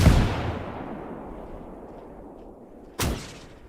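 Two loud gunshots in the WWII game Gates of Hell, one opening sharply and echoing as it fades, then a second crack about three seconds later, heard alone without talk.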